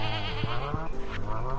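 A goat bleats in the Stardew Valley farming game, a single wavering, nasal cry with clear harmonics lasting over a second, close and alone with no talk.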